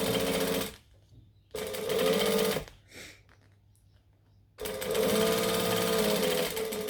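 A sewing machine stitches fabric in three loud, steady bursts of rapid whirring, broken by short quiet pauses while a dress is sewn.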